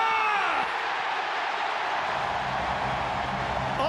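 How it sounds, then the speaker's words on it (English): A football crowd at an A-League match between Wellington Phoenix and Sydney FC roars after a goal, a broad wash of cheering and whooping that stays loud and sustained throughout. "The crowd find their voice."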